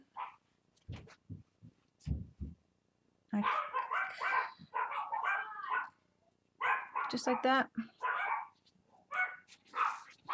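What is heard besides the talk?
dogs barking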